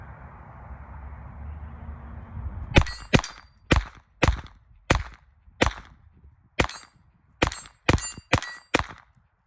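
Smith & Wesson 22 Victory pistol with a Burris Fast Fire 3 sight fires about a dozen sharp .22 shots at steel targets, each crack followed by a brief metallic ring, spaced irregularly after a quiet start.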